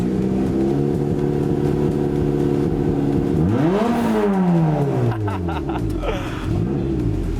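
A turbocharged Toyota MR-S with a 2ZZ engine and a 1320-style exhaust starts up and revs hard, loud and close, with a sharp rising and falling rev sweep over a steady idle rumble, followed by rapid throttle blips.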